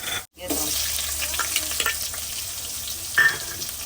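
Green garlic, cumin, mustard seeds, asafoetida, tomatoes, curry leaves and chillies sautéing in hot oil for Kathiyawadi khichdi, a steady close sizzle with a brief break near the start and scraping stirs throughout.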